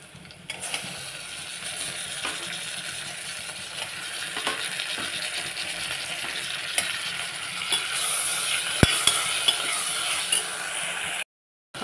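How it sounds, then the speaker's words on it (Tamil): Tomatoes get stirred into sautéed onions in a pan, with a steady sizzle and repeated scraping and clanking of a spoon against the pan, moderately close, no talking. "இப்போ வந்து தக்காளியை நல்லா மிக்ஸ் பண்ணி விட்டுறலாம்"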